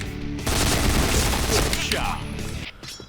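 A rapid burst of UZI Recamo submachine gun fire in a shooting video game, dense loud shots lasting about two seconds before cutting off.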